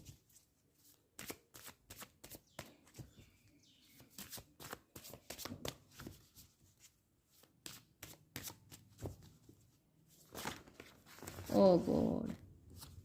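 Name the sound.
tarot cards being shuffled and falling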